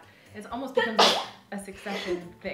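A single sharp sneeze bursts out mid-conversation during a garden-planning chat, loud and close, with people talking just before and after it.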